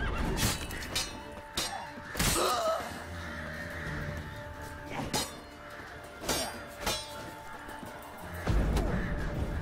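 A horse neighs in the Witcher 3 game during combat, a few loud whinnies and snorts standing out over clanks, impacts and background game noise.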